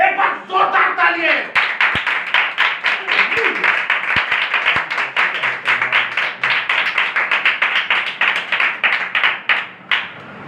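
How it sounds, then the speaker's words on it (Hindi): A church congregation applauds steadily for several seconds, a dense run of claps that fades slightly toward the end, with a voice briefly audible at the start. "एक बार जोरदार तालियां"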